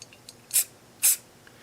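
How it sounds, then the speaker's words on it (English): Two short, sharp hisses from a spray can, about half a second apart, coat a handmade mandolin in a quiet workshop, each burst close and loud against near silence. "I think it's probably ready for the spray"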